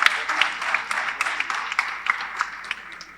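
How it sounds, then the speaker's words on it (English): An audience gives a round of applause for teams at the National Financial Literacy Quiz 2025 regional round, steady scattered clapping from a crowd in a hall with a few louder claps standing out. "Round of applause for them."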